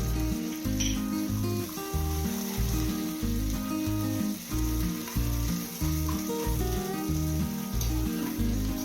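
Green chilies and curry leaves sizzle in hot oil for savory kara kolukattai, a continuous soft crackle sitting beneath louder rhythmic background music throughout.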